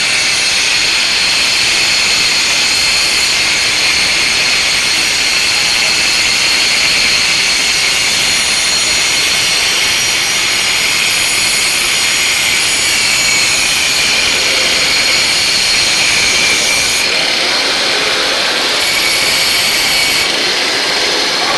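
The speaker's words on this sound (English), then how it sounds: "angle grinder." An angle grinder cuts through metal at a razor makers' meet in North Central Texas, producing a loud, continuous high-pitched whine with steady grinding noise that runs for over twenty seconds.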